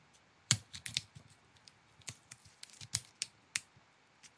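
A plastic card pries the chassis off an OPPO A54 5G phone, giving a quiet run of sharp plastic clicks and snaps, irregular and close-up, with no other sound around them.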